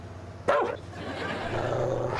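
A single sharp dog bark close by, followed by a low growling rumble that carries on under background noise.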